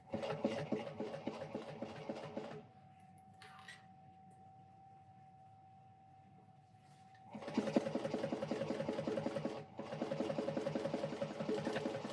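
A sewing machine winds a bobbin, a fast rhythmic mechanical whir that runs loud and close, drops to a quieter steady hum in the middle, then speeds back up.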